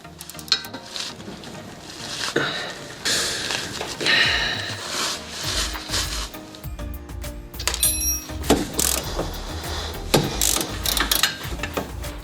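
A ratchet wrench clicks in rapid, rough bursts as it works on a seized stabilizer link of a Suzuki Every DA64V van, with metallic clattering, louder pulses and brief pauses throughout, and no talking.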